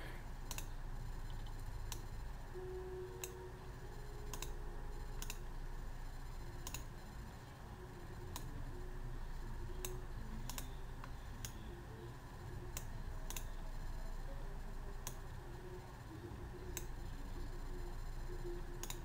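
Mouse clicks while drawing a path in Illustrator, a scattered series of faint, sharp ticks over a steady low hum, irregular in spacing and alone.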